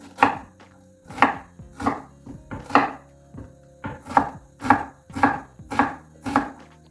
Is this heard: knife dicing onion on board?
yes